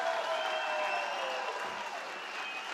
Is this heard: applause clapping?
yes